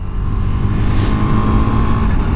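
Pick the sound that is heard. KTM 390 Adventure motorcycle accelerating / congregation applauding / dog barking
KTM 390 Adventure motorcycle accelerating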